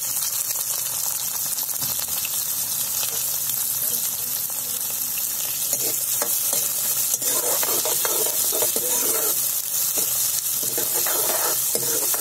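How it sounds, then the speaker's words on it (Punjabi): Onions frying in oil with roasted cumin seeds for aloo capsicum sabji, a steady close sizzle with stirring scrapes throughout, faint talk now and then. "ਹੁਣ ਆਪਾਂ ਇਹ 'ਚ ਪਿਆਜ਼ ਪਾ ਲਾਂਗੇ"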